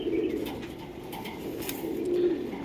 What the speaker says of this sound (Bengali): এটা তেনালি থেকে পায়রা আছে,